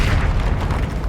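A loud, close explosion from the Bombarda blasting spell in the Hogwarts Legacy video game, a dense rumbling burst with heavy low-end boom filling the short moment alone.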